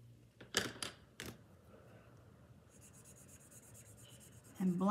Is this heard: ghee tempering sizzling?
no